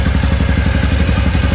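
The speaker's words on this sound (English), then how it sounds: "You can hear that like ticking noise. That's just the primary clutch." A fast, steady ticking from the primary clutch of a 2013 Maverick utility vehicle rides over a low engine idle, clattering evenly and close by without pause.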